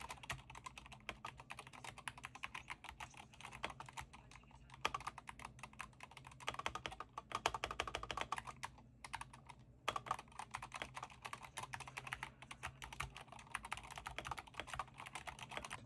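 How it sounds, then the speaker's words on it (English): Typing on a computer keyboard, likely a SteelSeries Apex Pro TKL, with a steady stream of quick, somewhat hollow clacks from close by, varying slightly in pace and with no voices. "Now if I type on this, here's how it sounds."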